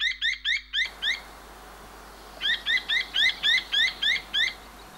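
A little owl gives rapid series of sharp, high, repeated yelping calls, one short run and then a longer run after a brief pause, loud and close.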